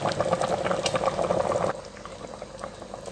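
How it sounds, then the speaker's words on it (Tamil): Mutton trotter soup bubbling at a steady boil, a dense close burble that grows quieter and sparser after a couple of seconds. "ஆட்டுக்கால் பாயை நல்லா கொதிச்சு ரெடி ஆகிடுச்சு"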